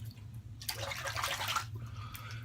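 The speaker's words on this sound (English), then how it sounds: "Rinse the razor blade" A razor blade rinsed under running water during a shave, a brief splashing gush lasting about a second over a low steady hum, close and quiet.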